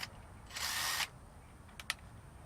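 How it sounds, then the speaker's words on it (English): A drill bores a hole in thin sheet metal during a DIY van roof insulation job: one loud, half-second grinding whir, followed by a couple of faint clicks over a quiet background. "drill a hole in them."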